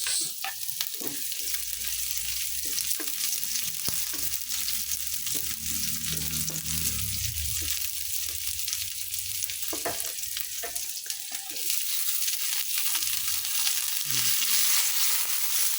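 Onions frying in a pan for Filipino guisado sitaw, a loud continuous close sizzle with scattered stirring clicks and a brief low rumble partway through, with no talking.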